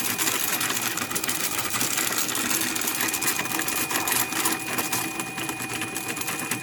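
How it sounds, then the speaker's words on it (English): 300-millimetre magnetic flywheel spinning while levitated by closely spaced three-phase wire coils, a steady rapid mechanical whirring hum with a faint high tone, continuous and moderately quiet. "a 300 millimeter spinning magnetic flywheel in the middle"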